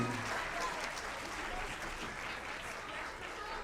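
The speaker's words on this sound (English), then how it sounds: "maybe one more round of applause for our all-city chorus and Miss Beverly Mosby" A concert audience gives another round of applause for an all-city middle school chorus at a spring concert, a steady, fairly quiet wash of many hands clapping throughout with a brief tone at the start.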